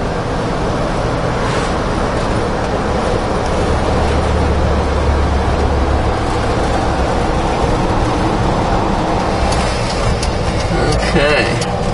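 A 1969 Volkswagen pickup engine runs steadily and close, a loud continuous rumble for the whole stretch with no pause.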